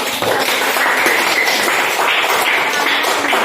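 Classroom of grade 6 students clapping together, a dense steady patter of many small hands at even loudness throughout, with no talk over it.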